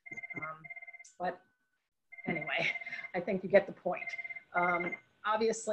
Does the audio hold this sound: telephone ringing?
yes